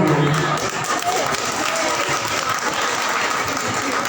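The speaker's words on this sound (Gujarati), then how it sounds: "જોરદાર તાળીઓ." An audience at a gathering claims loudly and steadily, a dense wash of clapping from a crowd that carries on without letup, with some voices mixed in.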